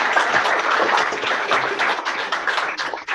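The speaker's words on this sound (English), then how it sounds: "let's give him a cheer" Company audience at a Founder's Day event applauding steadily for a few seconds, a dense wash of clapping that fills the room, with no cheering voices standing out.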